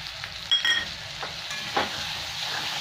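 Spice paste of turmeric, chilli powder, coriander and cumin hits potatoes and onions frying in oil, giving a loud hiss with a few sharp bursts and scraping stirs, with no voices.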